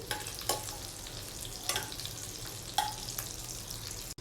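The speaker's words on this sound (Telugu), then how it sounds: "బటర్ వేసిన తర్వాత ఇదంతా బాగా మెల్ట్ అవ్వాలండి" Butter melting in a pan for white sauce pasta gives a steady low sizzle, with a few sharper stirring scrapes breaking through at intervals; no one speaks.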